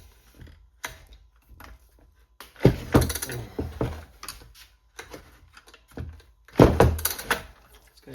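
Vintage Stihl chainsaw being pull-started after choking: a series of mechanical thunks and rattling cranking bursts, each brief, with two louder sputtering attempts that fail to catch, no talking.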